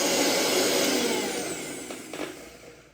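A kitchen mixer grinder runs loud and steady as it grinds mustard seed paste for a home lunch, its motor whine alone and unbroken before it winds down near the end.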